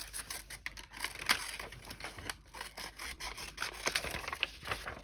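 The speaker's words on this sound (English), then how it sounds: "just cut it out, cut a circle shape out" Scissors snip and rasp through fabric while cutting out a rough circle, with quick, irregular close-up cuts and rustling and no talking.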